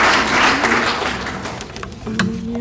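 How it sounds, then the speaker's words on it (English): Applause from a university athletics awards banquet audience, many hands clapping in a broad wash that gradually thins and fades, with a voice and tonal sounds emerging underneath toward the end. "How about a round of applause for the two women behind the scenes"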